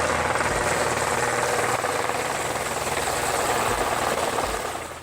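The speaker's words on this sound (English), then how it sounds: "these folks decided to take homemade helicopters to another level by inventing what they call a hungarocopter" A small homemade helicopter, a hungarocopter, drones steadily with its rotor and engine giving a buzzing whine, loud and constant, fading slightly at the end.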